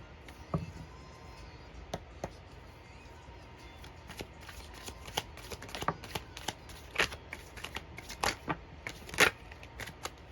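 Oracle cards are shuffled in a quiet room as a series of soft, rapid riffling flicks and taps that grow busier and louder toward the end.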